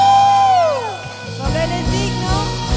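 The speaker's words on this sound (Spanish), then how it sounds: "¿Puedes dar un grito de alegría?" A church congregation lets out a long rising and falling whoop of joy that fades, followed by scattered shouts and cheering over rhythmic music, loud and reverberant in a large hall.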